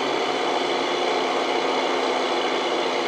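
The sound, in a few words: truck engine running in American Truck Simulator video game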